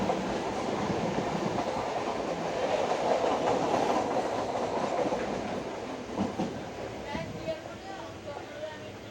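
A local train runs at speed on its way to Kolkata, making a continuous rumbling roar with rhythmic wheel clatter that swells, then eases off somewhat toward the end.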